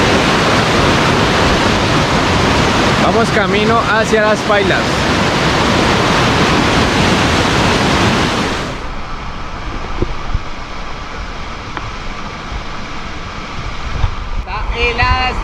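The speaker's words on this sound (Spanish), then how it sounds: "vean este río como está crecido" Loud, continuous roar of a swollen, rain-fed river rushing close by near Las Pailas del Oso, Jamundí, Colombia; someone speaks briefly over it, and the roar drops somewhat partway through.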